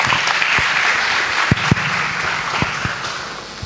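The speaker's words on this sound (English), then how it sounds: "Let us welcome her with a round of applause." A round of applause fills a hall at a university Engineer's Day celebration, welcoming the vice chancellor to speak; the steady clapping holds throughout at moderate loudness, with a few sharp thumps cutting through.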